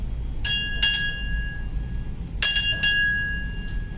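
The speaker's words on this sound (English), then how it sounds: "Time orderly. Sound 4 bells." A ship's bell rings four times in two quick pairs at a naval retirement ceremony, bright metallic strikes with a sustained ringing tone between them.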